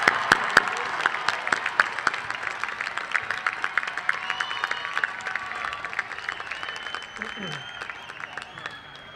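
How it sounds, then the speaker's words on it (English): A graduation ceremony audience gives a final round of applause for new graduates, with sharp, dense clapping filling the hall, some nearby claps standing out and faint crowd voices mixed in. "Would we have one last big round of applause for our graduates?"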